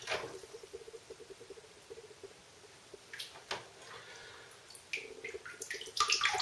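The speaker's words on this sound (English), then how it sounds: "if I was to drop the phone in the water" Sloshing and splashing water around a phone sealed in a waterproof case as it is dropped under water, with quiet faint bubbling and brief louder splashes and knocks building toward the end.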